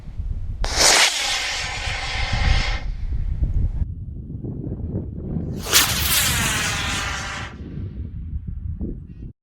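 An Estes Goblin model rocket launches on a D12-5 motor, giving two loud broadband whooshing roars of about two seconds each over steady outdoor wind and rumble.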